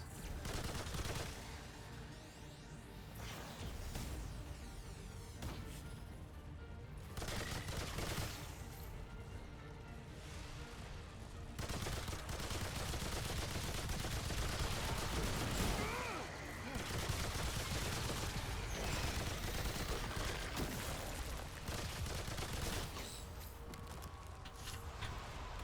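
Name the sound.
machine gun firing in a video game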